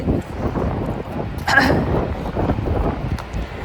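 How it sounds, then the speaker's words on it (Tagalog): Strong wind at Niagara Falls buffeting the microphone, a continuous close rumbling gusty roar with a voice briefly heard over it. "It's so windy here!"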